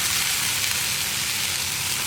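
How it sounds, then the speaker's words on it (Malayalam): Sautéed okra is stirred into a tamarind curry in a pan, giving a steady, close sizzle and frying crackle that holds evenly for two seconds with no talking. "ഇനി നമുക്കിതിലേക്ക് നമ്മൾ വഴറ്റി വെച്ചിരിക്കുന്ന വെണ്ടയ്ക്ക ചേർത്ത് കൊടുക്കാം"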